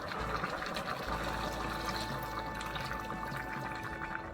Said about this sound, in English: I'm gonna come here with some chicken broth.